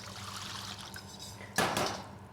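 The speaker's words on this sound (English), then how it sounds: "I put water in my bowl." Water poured into a bowl to start a spicy kebab marinade, a soft trickle building into a brief louder splash near the end.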